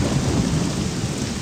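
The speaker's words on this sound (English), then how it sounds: "It's much quieter in here when there's not thunder and lightning going on." Heavy rain pours steadily under a rolling rumble of thunder in the game Morrowind, a dense, loud wash of storm noise with no voices.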